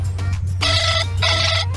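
A telephone ring tone sounds in two bright, repeated bursts with a short gap between them, steady and fairly loud over a low constant hum.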